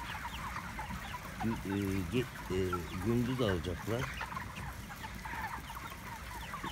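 Chickens cluck close by in a quick run of calls on a chicken farm, with a faint voice speaking briefly.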